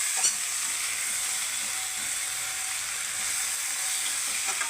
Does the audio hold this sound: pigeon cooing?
no